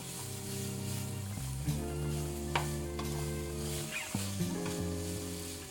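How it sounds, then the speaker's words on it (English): Vegetables sautéing in avocado oil with garlic, giving a steady sizzle with occasional stirring scrapes, close and even, over sustained background tones. "I sauteed them in some avocado oil with some garlic, then I added some ground ginger"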